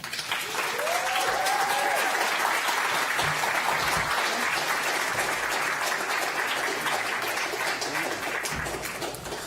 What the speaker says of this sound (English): One more round of applause, please, for Natalie and for Gina